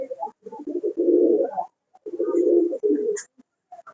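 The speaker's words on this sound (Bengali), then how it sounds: "দেখেন যে কবুতরগুলো পানি খাইতেছে" Pigeons coo close by while drinking water: two long, throaty coos with shorter soft calls and a brief chirp between them.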